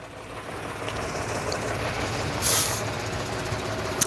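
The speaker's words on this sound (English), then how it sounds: "the next one coming down is a fire engine" A 4x4 fire engine rolls past at an off-road and overland vehicle show, its steady engine rumble broken midway by a short, sharp hiss of air brakes.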